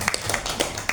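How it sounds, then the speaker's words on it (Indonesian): Audience clapping for a child at a church gathering, several irregular claps close by that stay fairly loud and uneven over a brief moment, with a faint murmur of voices underneath. "tepuk tangan buat G Remata"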